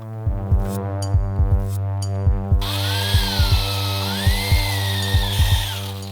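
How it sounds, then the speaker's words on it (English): A drill boring half-inch-deep holes into the underside of a wooden block, a steady motor whine broken by repeated rhythmic thumps close by, with no talking. "Since I've got the block up here getting drilled, I might as well do the holes on the underside also"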